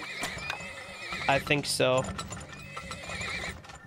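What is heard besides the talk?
horses neighing and clip-clopping in the video game Turmoil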